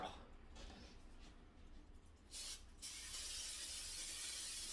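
A short hissing burst of olive oil spray into a pan near the middle, followed by a steady sizzling hiss that continues to the end.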